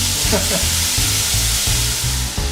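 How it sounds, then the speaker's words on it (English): Shrimp sizzle in a hot pan, a loud, steady frying hiss with faint crackles that continues unbroken throughout. "just let them cook till they start to look opaque"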